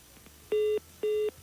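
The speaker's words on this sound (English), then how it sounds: "Unfortunately, dropped call." Two identical steady electronic tones, each lasting about a quarter second, sound over a quiet radio-show phone line after the call drops.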